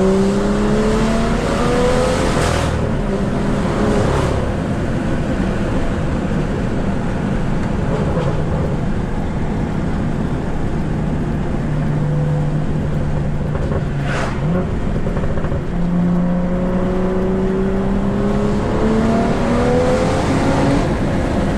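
A BMW E46 M3 with full bolt-ons is driven on an open road, its engine droning loudly and steadily with rising and falling revs throughout, close and continuous with wind and road noise.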